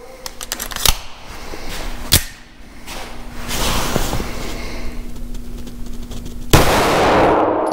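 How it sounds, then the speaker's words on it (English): A Kimber Rapide 9mm pistol fires on a range, with a few sharp reports early followed by a dense stretch of rapid shots and loud echoing noise, ending with another crack. "9 rounds of 9mm at the Kimber"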